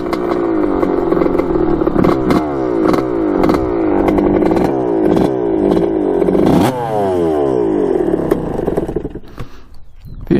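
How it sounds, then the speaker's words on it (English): Vintage Kawasaki dirt bike engine idling and revving with a loud, rough mechanical rattle and clatter, steady and close throughout, briefly dropping off near the end. "The engine's rattling pretty bad."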